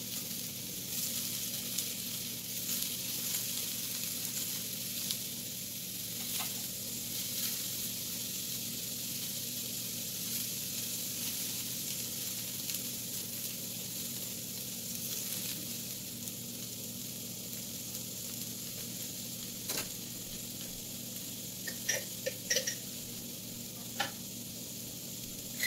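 A carrot hot dog sizzles steadily on a grill, a constant fizzing hiss with occasional louder crackles and pops, close and alone for the whole stretch.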